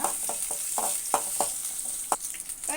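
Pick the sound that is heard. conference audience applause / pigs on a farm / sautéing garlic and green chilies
sautéing garlic and green chilies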